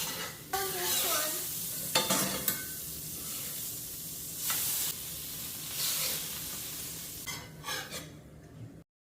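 French toast frying in butter on a pan gives a steady, fairly loud sizzle, broken by sharp utensil scrapes and clacks as the slices are stirred or turned; no voices.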